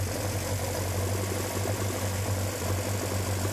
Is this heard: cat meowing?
no